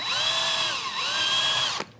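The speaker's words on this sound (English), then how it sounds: "You just slip in the 3 millimeter drill bit and then drill into the hole" A power drill fitted with a 3 millimeter bit bores into a pilot hole in wood, a loud, steady whine lasting almost two seconds with a brief dip in pitch, then stopping abruptly.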